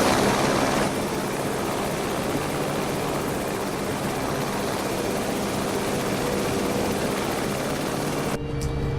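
Steady, loud rotor and turbine drone from an AS350 B3+ helicopter in a flight simulator game, continuous for most of the clip before cutting off abruptly near the end.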